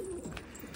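A pigeon gives a brief soft coo, close by and faint, with no talk over it.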